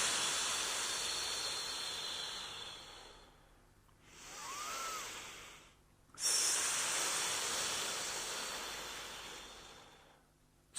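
Slow, deep breaths during a stretching exercise: long drawn-out airy inhales and exhales, close and loud, with brief pauses between them.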